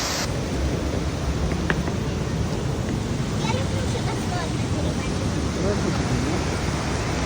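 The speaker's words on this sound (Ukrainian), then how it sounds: "Велика річка, водоспад не дуже великий." The small but turbulent Probiy waterfall and the big river in Yaremche, Ukraine, give off a steady, dense roar of rushing water that stays close and loud throughout.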